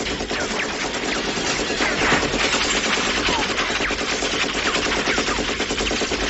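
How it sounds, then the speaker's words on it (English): In the video game Boundless, sling bow shots fire in a dense, rapid, continuous volley, loud and unbroken throughout. "Now I have a sling bow I made and it's completely slow as all get out, but I'm going to have to come out here shooting Rambo style"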